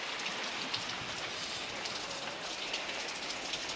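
Steady evening rain in Vijayawada pours down, a dense, even hiss of drops hitting surfaces with no pauses, close and constant throughout, with no voices.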